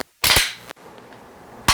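A pistol slide is racked with a BarrelBlok-equipped magazine inserted for dry fire training: a sharp metallic clack as it pulls back, then a second snap as it slams forward moments later, close and alone.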